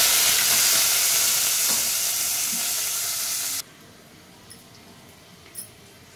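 Onions fry and are stirred in a hot pan, giving a loud, close, continuous sizzle that cuts off abruptly partway through, leaving quiet room tone with a couple of faint clicks.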